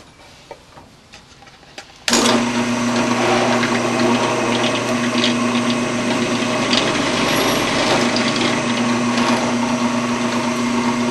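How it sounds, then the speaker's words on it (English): A number 10 drill bit bores the rest of the way through wood for a screen press build, starting abruptly after quiet handling sounds and running as a steady, loud motor whine with a low hum. "So I'm going to use that center to guide my number 10 drill bit the rest of the way through."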